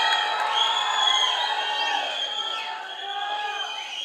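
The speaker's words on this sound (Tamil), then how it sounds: "ப்ளீஸ் ஒரு பெரிய கைத்தட்டல்." A crowd at a film pre-release event on stage cheering and whooping, a bright sustained roar of voices with shrill shouts rising and falling across the whole stretch.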